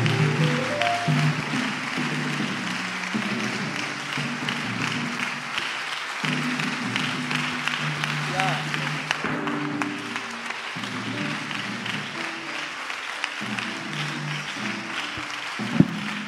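A church congregation at a seminar applauding to welcome an apostle, diffuse clapping mixed with sustained tonal music or singing underneath, moderately loud and continuous.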